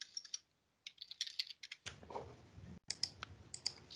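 Quick keystrokes on a computer keyboard while editing an Excel sheet name, bursts of light clicks separated by short pauses, close and clear with no talking.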